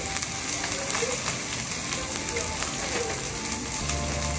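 Curry leaves and turmeric sizzling steadily in hot oil for a soya chunks curry, a soft continuous crackle with small pops, with a voice speaking over it.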